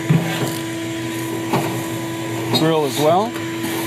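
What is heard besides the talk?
shop vac vacuuming inside a Traeger grill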